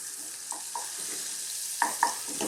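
Unsalted butter, about a tablespoon, melts in a small pan for a moussaka white sauce, a low continuous sizzle punctuated by a few light clinks and taps of a utensil against the pan.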